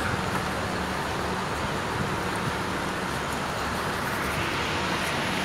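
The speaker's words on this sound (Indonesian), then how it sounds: "Sekarang kita lagi ada di stasiun bus Harjosari." Constant wash of road traffic at Arjosari bus terminal in Malang, East Java. Dense, loud, unbroken hiss and rumble of passing vehicles with no distinct voices.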